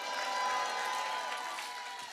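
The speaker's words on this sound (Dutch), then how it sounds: "Geef me een applaus, Jeffrey Hezen!" Applause from a studio audience on a music television show, a steady wash of many hands clapping at a moderate distance over a faint sustained tone, with no talk.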